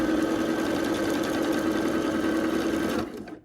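A sewing machine stitches pieced Ohio Star quilt blocks in a fast, even, close-up hum, then slows and stops near the end.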